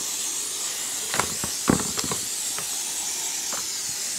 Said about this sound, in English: Brake cleaner, carb clean, whatever you want to use.